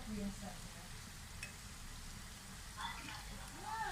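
Karela pakoda fry in oil with a soft, steady sizzle that runs throughout, faint beneath a speaking voice.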